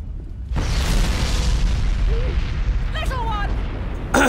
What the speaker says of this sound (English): explosion goes off and the kids start screaming.